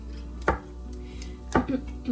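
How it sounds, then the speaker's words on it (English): Kitchen knife chopping mushrooms into a coarse chop, with a few sharp blade strikes spaced apart against a board over a low background hum. "I'm gonna kind of give them a decent chop, but not too fine"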